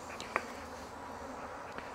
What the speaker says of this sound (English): Excuse my bees, y'all. They're a little riled up